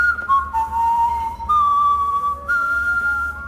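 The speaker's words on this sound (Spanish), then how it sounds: "El silbido, que es la señal para que Sam nos reconozca como aliado de Willis" A signal whistle in Far Cry 3, made up of a few sustained, tonal whistled notes that step up and down in pitch, close and clear with little else around them.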